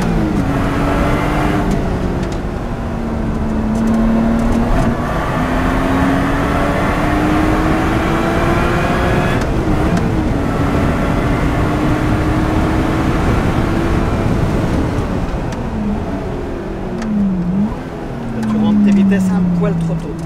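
A 500 hp Lotus accelerating hard on a race track during a trackday, its engine droning loudly with rising and falling pitch through gear changes, while people talk over it.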